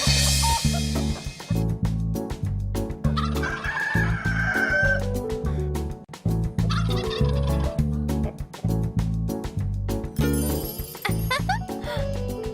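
Hens cluck and a rooster crows on a poultry farm, the bird calls repeating over a steady musical backing throughout.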